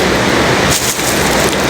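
Heavy rain pours down in a loud, dense, unbroken hiss with a low rumbling undertone, close and constant, with no voices.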